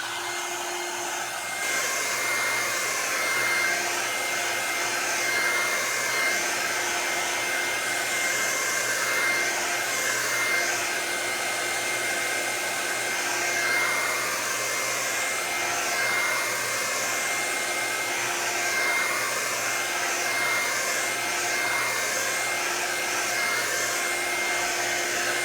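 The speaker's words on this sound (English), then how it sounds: "let's hit it with the hairdryer because we really want these berries dry for this next part" Hair dryer blowing steadily on painted berries, a loud, continuous whooshing hum with a whine on top that keeps going without a break, no voices.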